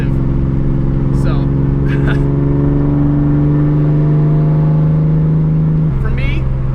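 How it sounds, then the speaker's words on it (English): A Nissan 240SX with a big-turbo RB engine idles with a steady harmonic drone and a brief rev change near the end, with some faint chirps in the background. "it revs so happy. It's so quick and responsive."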